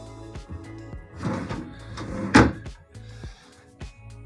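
Drawers in a Carnival Glory balcony cruise cabin slide open and shut in a series of short knocks and thuds, one louder bump near the middle, close by in a quiet room.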